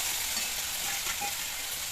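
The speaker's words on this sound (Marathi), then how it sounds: "परतून घेऊया व्यवस्थित" Chopped cauliflower and potato sautéing in a pan, a soft continuous sizzle with faint stirring scrapes, steady and moderately quiet with no talking.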